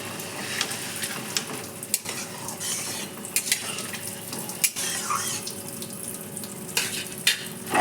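Water is poured into an omelette and potato curry in a pan, a steady trickling splash with scattered clinks of a utensil against cookware.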